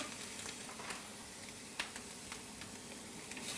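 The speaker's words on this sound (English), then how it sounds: "browning off the onions and the bacon" Bacon and onions browning in a pan for a dairy-free chicken carbonara, a soft steady sizzle with faint crackles and small pops throughout, fairly quiet and close with no talk.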